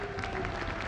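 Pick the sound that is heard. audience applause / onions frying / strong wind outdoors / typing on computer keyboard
audience applause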